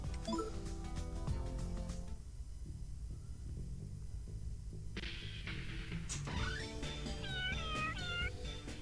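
A cat meows repeatedly in the Persona 2: Innocent Sin video game, with several clear, close mews and a drawn-out meow over a steady low game background.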